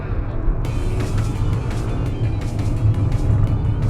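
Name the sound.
Bentley car driving fast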